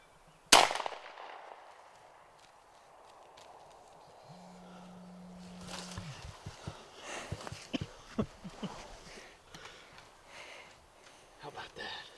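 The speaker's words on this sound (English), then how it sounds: "Put it on his head and shoot him." A single sharp, loud shotgun-style blast fired at a wild turkey during a spring hunt outdoors, a sudden crack near the start followed by quiet woods, rustling movement and people speaking afterward.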